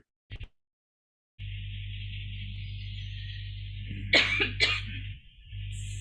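Two quick coughs close by, preceded by a brief click and a stretch of steady background hum.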